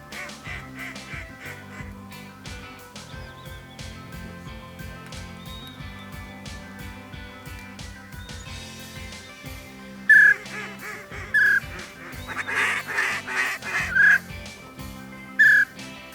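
Ducks and geese call during a hunt, with a busy chorus of quacks and honks, joined by several loud, abrupt calls close by.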